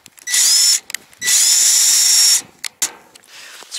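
A cordless drill with a plumbing bit whines in two bursts, one short and one longer, as it drives a roofing screw into a metal roof tile sheet, with faint clicks and handling noise between.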